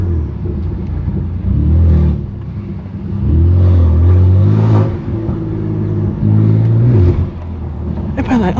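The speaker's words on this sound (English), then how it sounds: "this car's too loud" A BMW F80 M3 Competition with a straight pipe exhaust on a city drive, a deep loud engine drone that swells with several revs, heard from inside the car.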